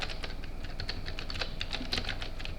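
Fingers type on a computer keyboard while entering text into an Excel sheet, producing a steady, fast stream of close plastic key clicks with occasional louder taps. No one speaks.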